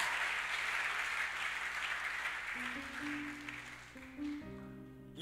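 Church audience at a youth gathering clapping and cheering in praise of Jesus, a broad, steady wash of applause that thins toward the end as sustained music tones come in underneath.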